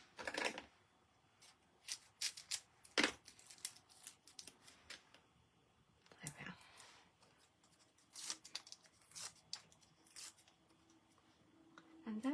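Scissors cutting paper at a craft table, a few short crisp snips and rustles scattered among quiet handling sounds, close and fairly soft, with a voice speaking briefly.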